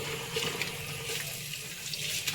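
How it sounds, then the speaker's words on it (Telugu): Leafy greens such as amaranth being washed under a running tap in a sink: a steady, close, continuous gush of water, with no voices. "ఒక గిన్నె ఆకుకూర కడుగుతుంటే సగం ఆకుకూర అందులో ఉండిపోతుంది"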